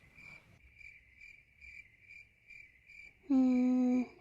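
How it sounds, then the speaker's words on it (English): A cricket chirps in a steady, evenly spaced rhythm, close and clear, followed by a louder sustained tonal sound near the end. "But Lola, you really think these crickets remember?"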